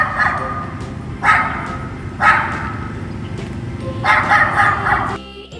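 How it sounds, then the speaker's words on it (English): A dog barks four times in short, loud bursts spaced about a second apart, the last a doubled bark, over a constant low background hum. "D for dog."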